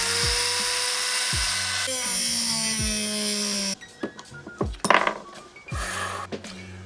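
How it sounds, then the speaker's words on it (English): An angle grinder cuts a link out of a bike chain during a wrecked bike rebuild, whining loudly and steadily, then stopping for clinks and knocks of metal. "now I'm just going to quickly grind a link out of this"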